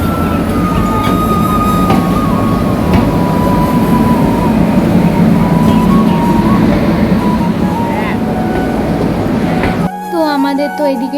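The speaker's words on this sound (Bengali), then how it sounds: "আমাদের তো এদিকে ট্রেন ঢুকে গেছে" A train pulls into a busy station platform on the main line in the evening, a loud continuous rumble and roar of wheels filling the whole stretch with steady crowd noise, then cutting to quieter sound near the end.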